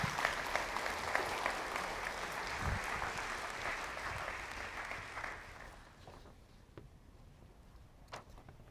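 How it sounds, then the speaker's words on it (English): Church congregation applause at a Sunday service, a steady broad patter filling the room for about five seconds before fading into quiet room tone with a few faint knocks. "Why don't we give them a round of applause for coming this morning?"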